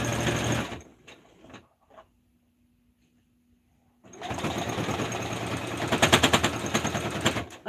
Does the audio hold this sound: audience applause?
no